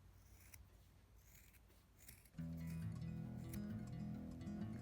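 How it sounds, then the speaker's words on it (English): Macrame cord snipped with scissors, a few faint sharp clicks at first, then a louder steady low hum from partway through that covers the rest. "and now cut it to the other side"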